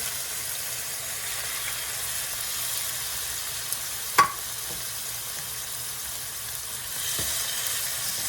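Shrimp dropped into hot sesame oil, a steady close sizzle with a sharp clack partway through as they go in, the frying hiss continuing afterward without talk.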